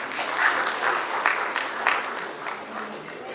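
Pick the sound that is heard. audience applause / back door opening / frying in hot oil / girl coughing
audience applause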